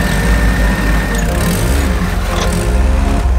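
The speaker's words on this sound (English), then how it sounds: "Engine." An Opel Calibra engine runs under restoration, giving a loud, close, steady low rumble with a rough throb and slight shifts in pitch, and no voices.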